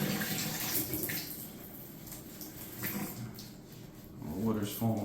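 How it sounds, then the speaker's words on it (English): Water runs from a Moen shower head during a no-solder faucet upgrade, a steady broadband spray that holds throughout the clip, with a voice speaking over it. "Water's falling from the top,"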